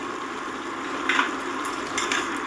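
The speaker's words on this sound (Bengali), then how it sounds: "লবণটা দিয়ে খুব সুন্দর করে একটু নেড়ে চেড়ে দেবো" Spinach with salt being stirred in a frying pan, steady sizzle underneath with a few sharp scraping clinks of the spatula against the pan near the middle and end.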